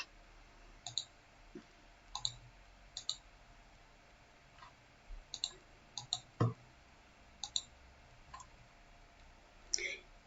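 Computer mouse clicks, single and double, as a TIFF satellite image file is opened, sharp small ticks spaced irregularly over a quiet room tone.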